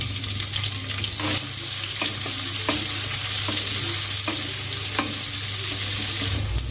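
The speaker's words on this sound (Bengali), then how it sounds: "পেঁয়াজটা ভালোভাবে ভাজা হয়ে গেছে।" Two finely sliced medium onions sizzle and fry steadily in a pan, with a constant crackling hiss and a few clinks of a stirring utensil, no voices.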